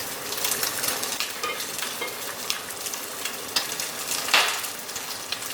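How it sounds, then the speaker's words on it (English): Spam meatballs brown in a hot pan with a steady, close sizzle and crackle, broken by a few brief scrapes and clinks from stirring, with nobody speaking. "Just browning spam."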